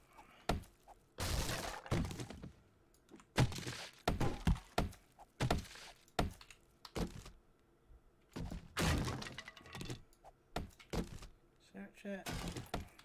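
Objects being smashed and broken in the survival game 7 Days to Die, with repeated loud thunking, cracking impacts in bursts, some close and sharp, separated by short pauses with someone talking at times.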